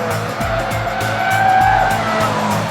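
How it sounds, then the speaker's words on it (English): A Mitsubishi Lancer Evolution X on a racetrack, its tires squealing and howling in repeated sliding bursts over a loud, steady engine drone, close and with no talk. "You hear the tires are howling"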